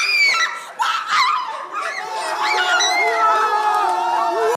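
A crowd at a municipal high school in Côte d'Ivoire cheers and screams with joy at the announcement of baccalaureate results, loud, dense and continuous, with excited shouting voices throughout.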